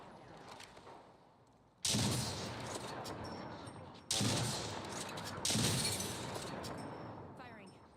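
Video game gunfire comes in three loud bursts of rapid shots, each sharp onset trailing off briefly, with a faint voice before the first volley.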